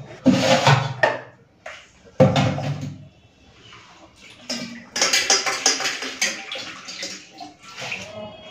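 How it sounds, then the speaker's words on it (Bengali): Rohu fish being washed in a vessel, with splashing and pouring water in several close bursts separated by quiet pauses. "চলুন ভালো করে একটুখানি মাছটাগুলো ধুয়ে নিই"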